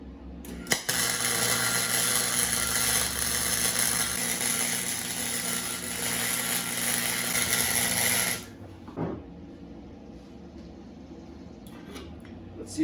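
Steady buzzing crackle of MIG welding beads laid on a junk go-kart frame, loud and continuous for about eight seconds, then stopping abruptly into a quiet room with a faint clunk.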